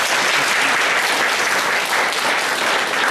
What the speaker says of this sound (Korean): 우리 목사님 나오실 때 크게 박수로 우리 환영하겠습니다.